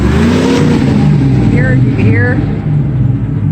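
A truck engine revving hard in neutral, a loud sustained roar with rising pitch sweeps, close by with people talking over it.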